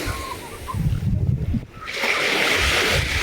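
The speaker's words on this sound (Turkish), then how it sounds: "Yaramaz dalga kaleni bozdu." Sea waves wash up on a summer beach in a loud broadband rush that briefly eases and then surges again, with wind noise buffeting the microphone.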